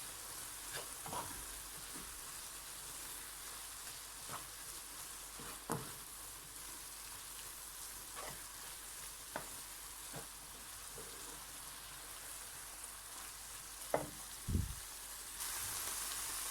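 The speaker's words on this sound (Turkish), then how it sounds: "Iyice karıştırdıktan sonra tekrar pişmeye bırakıyorum" Eggplant with salt and spices is stirred in a cooking pan, a soft steady sizzle running throughout with a few scattered scrapes and knocks of the utensil against the pan.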